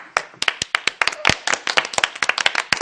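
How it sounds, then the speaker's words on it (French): Game-show audience clapping in a duel to applaud the longest, sharp close hand claps in a quick uneven rhythm, dozens of distinct loud strikes in a row with little else around them. "C'est à qui va applaudir le plus longtemps possible."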